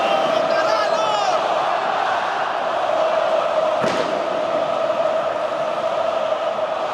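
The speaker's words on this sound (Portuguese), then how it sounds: "E a torcida não para de cantar." Botafogo supporters sing together in the Nilton Santos stadium during a Libertadores semifinal against Peñarol, a steady, dense crowd chant filling the whole stretch, with a single brief thud partway through.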